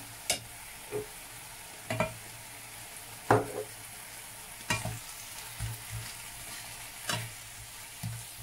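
Paprika, black pepper and white pepper being stirred into a hot frying pan for a cassava and sausage breakfast: steady sizzle with about eight sharp scraping strokes of the spoon, close and clear, no talking.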